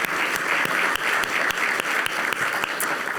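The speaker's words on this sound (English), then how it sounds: "Let's give them all another round of applause." Conference audience applauds after an award ceremony, with dense, steady clapping and a few sharper individual claps standing out, continuous for about three seconds.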